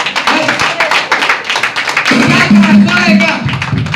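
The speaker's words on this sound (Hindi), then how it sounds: "अरे ताली मारो ना।" Audience clapping during a Christmas sermon in a church, a ragged burst of hand claps mixed with tapping, growing fuller midway and continuing under the preacher's ongoing talk.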